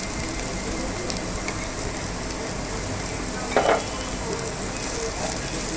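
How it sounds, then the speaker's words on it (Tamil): Onion and capsicum sautéing in a pan for pepper chicken: continuous close sizzling and crackling oil, with a brief stir or scrape partway through. "இதை நல்லா வதக்கிக்கலாம்"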